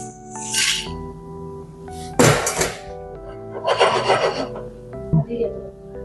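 A pan is handled in a Goan kitchen before dry roasting Kashmiri chilies, giving two short bursts of scraping clatter and a fainter knock over steady background music.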